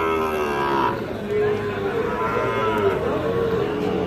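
A bull calf at a cattle market moos in long, loud bellows, one call running into the next, with market noise low in the background.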